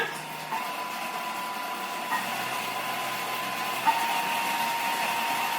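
A Thermomix food processor whirs steadily at speed 5 while mixing, a smooth continuous motor hum with a faint whine and a few small clicks, no talking.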